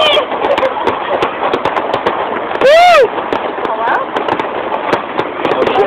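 Fireworks explode at a Canada Day celebration, with dense rapid crackling pops throughout and a loud rising whistle in the middle, close and loud, while people talk nearby.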